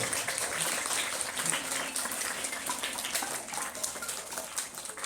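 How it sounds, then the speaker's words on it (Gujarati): An audience at a school honouring ceremony gives a sustained, even roll of applause heard from a distance in a large room. "આપણે તાળીઓના ગડગડાટથી વધાવી દઈશું"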